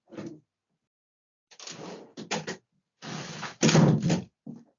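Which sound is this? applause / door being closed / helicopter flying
door being closed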